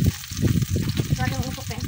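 Garlic and onion are sautéed in a hot pan for chicken caldereta, giving a close, loud and steady sizzle with crackling pops and no voices.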